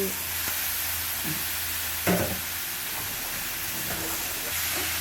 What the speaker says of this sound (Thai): เอาขิงลงไปผัด กับน้ำตาล